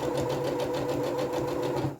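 A sewing machine stitches a curved seam on dungarees, a steady, rapid mechanical whir running close and continuous before slowing at the end.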